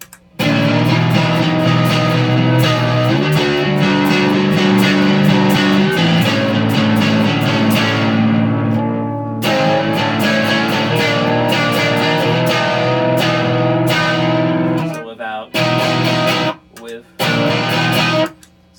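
Electric guitar through an EarthQuaker Devices Aqueduct vibrato pedal playing dense chords with a wavering, pitch-bending vibrato, loud and continuous, cutting into short choppy bursts near the end.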